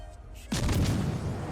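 A heavy battleship gun salvo from the New Mexico in World of Warships Legends: a sudden loud boom in the middle of the clip, then a rumbling, sustained roar that carries on to the end.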